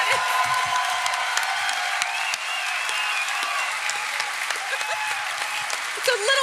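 Live podcast audience at a comedy festival show in Toronto applauding with some whoops and cheers, sustained clapping under occasional voices.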